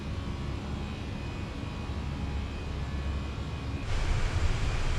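An Easyjet airliner climbs after takeoff from the Isle of Man in Microsoft Flight Simulator, a steady broadband engine roar that grows slightly louder and brighter near the end.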